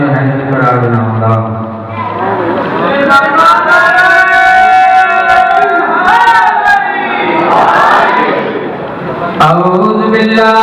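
Crowd at a Muharram majlis chanting a religious slogan, loud call-and-response voices rising and falling in unison, with a single voice leading between the massed replies.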